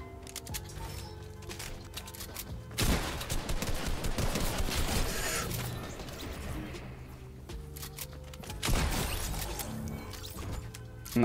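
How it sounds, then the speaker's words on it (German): Loud shotgun blasts in Fortnite at Tilted Town, two heavy broadband bursts separated by several seconds amid busy game action and a continuous mechanical din. "Ja, mit der Shotgun schieße ich."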